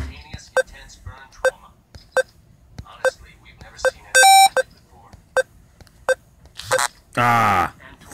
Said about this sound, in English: it gets faster every time you hear that beep noise